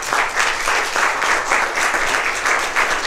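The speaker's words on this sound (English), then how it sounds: "Let's give these men a round of applause." A church congregation gives a group of men a round of applause, loud, close, dense clapping with a slightly pulsing rhythm that carries on steadily with no talking.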